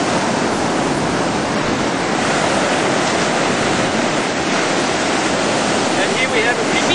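Waves washing in and out on a beach along a coastal hike, a loud, steady roar of surf and rushing water up close, with no pause throughout.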